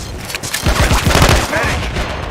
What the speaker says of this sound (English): Frag grenade.